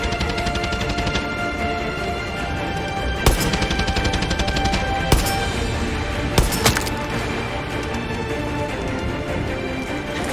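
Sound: rifle firing single shots in video game Far Cry 6

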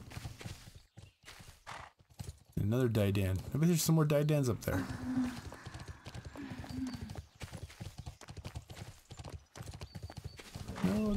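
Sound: horse hooves and whinny from a video game (Bless)

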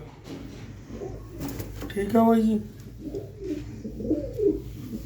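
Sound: pigeon cooing

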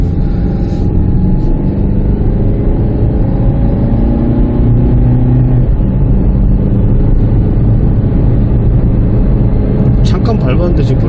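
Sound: Chevrolet Spark car engine accelerating uphill

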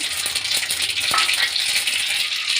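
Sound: mustard seeds and chana dal frying in hot cooking oil

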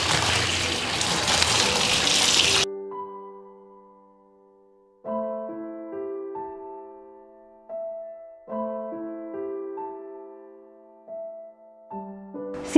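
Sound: running tap water rinsing dyed t-shirt

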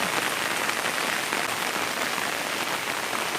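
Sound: rain falling in the morning at home

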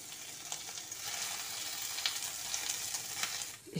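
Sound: cut paneer frying in hot oil in a kadai

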